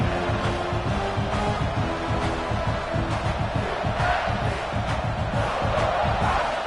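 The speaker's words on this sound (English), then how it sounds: "This crowd, full throat, splitting the eardrums and letting him know it's going to be a long day." Simulated stadium crowd in College Football 26 during a South Carolina vs Nebraska playoff game roars loudly and continuously, a dense sustained wall of cheering and shouting with no pauses.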